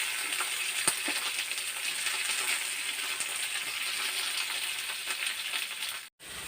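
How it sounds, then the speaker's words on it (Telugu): Pieces of bottle gourd fry with green chillies in a pan, giving a steady, bright sizzle that crackles continuously, with occasional clinks and a momentary break just before the end. "ఇలాగ పచ్చిమిర్చి మాత్రం వేగిన తర్వాత మనం ఆనపకాయ ముక్కలు కూడా వేసేస్తాం"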